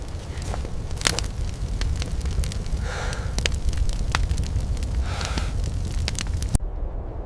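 A wildfire burns at nightfall, a dense continuous roar with crackling pops and snaps scattered throughout, loud and unbroken before cutting off near the end.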